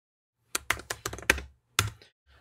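Quick typing on a computer keyboard while entering a template name in QC software: a short burst of about eight close, crisp key clicks, then a pause and a faint final tap.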